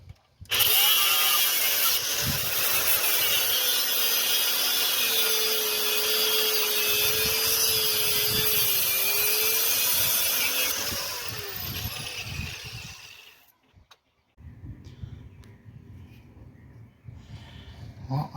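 Loud power tool cuts a small piece off near the steering box to make header clearance on a 1959 Ford Thunderbird. The sustained grinding whine runs for about twelve seconds before stopping, followed by quieter clanks and handling noise.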